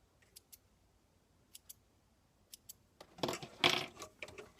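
Serger threads are snipped at the cones with a few faint, sharp clicks of scissors or tweezers, then a louder rustle of handling near the end.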